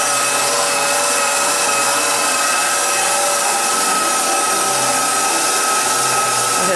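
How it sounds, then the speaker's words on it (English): Mushrooms and onion for Polish uszka stuffing run through an electric grinder, giving a steady, loud motor whir with an even, rough grinding texture that holds for the whole stretch with no talking. "Now we grind everything, mushrooms and onion"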